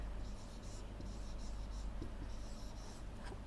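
Quiet scratching of a pen writing letters on a worksheet during a class 6 science lesson, a soft, continuous stroke texture with no voices over it.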